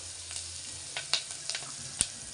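Onions fry in a pan with a soft, continuous sizzle, broken by faint clicks and scrapes of stirring at irregular moments, quiet and close.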